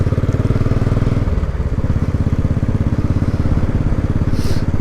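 A Royal Enfield 500 Classic single-cylinder long-stroke motorcycle engine runs steadily at low revs, close and loud, with a regular thumping pulse and no speech throughout.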